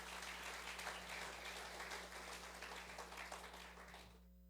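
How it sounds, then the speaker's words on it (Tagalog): A congregation claps loudly during a Sunday church service, sustained applause that fades out toward the end over a steady low electrical hum. "Malakas na palakpak sa Panginoon."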